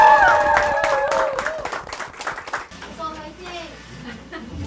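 A concert audience of parents and family claps for a band's debut. A burst of warm applause fades under a lingering musical tone, then gives way to scattered voices and chatter.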